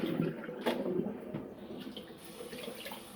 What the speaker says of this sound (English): pour off my hot water off of my saltfish.